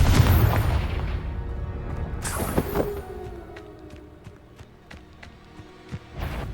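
Explosive blasts from the Confringo blasting curse in Hogwarts Legacy, a loud burst at the start and another sharp boom a couple of seconds in, followed by scattered smaller impacts and footsteps during combat.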